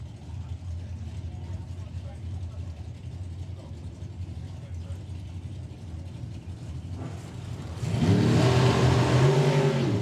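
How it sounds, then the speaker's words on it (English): Drag racing cars at a festival of power meet: a steady engine drone, then a sudden loud surge of revving as the cars launch with throttle stop engaged, under a commentator's voice. "Both away on the green, throttle stop kicks in and releases."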